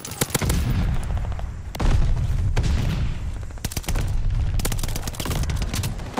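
Rapid bursts of video game gunfire crackle over dull booming blasts from an airstrike, loud and dense with brief gaps between volleys and no talk.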